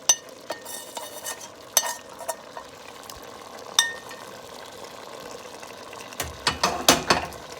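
Shrimp going into a simmering green papaya stew with coconut milk, with scattered spoon scrapes and clinks of stirring in the pot, ending in a burst of louder sizzling and splashing.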